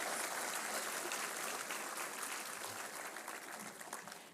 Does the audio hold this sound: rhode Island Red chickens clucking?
no